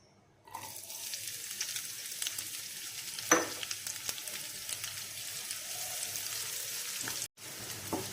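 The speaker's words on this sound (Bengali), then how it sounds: "কিছুক্ষণ পেঁয়াজগুলো একটু নাড়ব নরম হওয়া পর্যন্ত" About a cup of onions sizzles in roughly three tablespoons of hot oil in a frying pan while a spoon stirs them. A steady frying hiss runs throughout, broken by soft scrapes and a single sharp clack. No one speaks.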